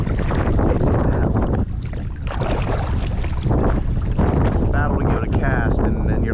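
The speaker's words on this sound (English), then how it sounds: "if you can hear that wind, it's just, it's bad." Strong gusty wind roaring across the microphone on a fishing float down the Clarion River through the Allegheny National Forest, loud and continuous with brief lulls and some faint background sounds.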